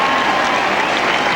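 A tennis crowd at the 1997 US Open applauds loudly and steadily, a dense wash of clapping that fills the whole moment without a break.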